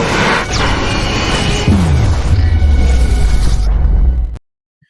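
An explosion sound effect plays on a livestream, a loud sustained rumbling blast with a whooshing sweep that rings out for about four seconds before cutting off abruptly into silence.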